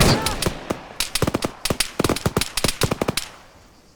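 Rapid gunfire in the military shooter ArmA 3, sharp close shots fired in quick irregular bursts, loud and cracking with short echoing tails, fading out near the end.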